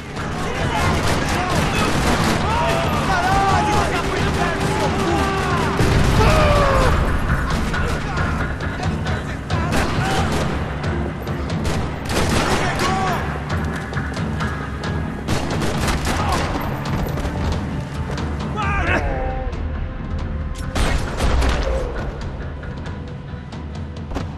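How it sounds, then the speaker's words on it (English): Sustained gunfire rattles across a parking lot in the video game Max Payne 3, loud bursts and volleys running throughout alongside game music and a voice talking over the action. "Another parking lot rattling with gunfire."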